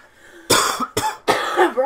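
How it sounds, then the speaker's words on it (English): Several people cough in quick succession, three harsh, loud bursts close to the mic with brief gaps between them. "Man, we can't all cough at once."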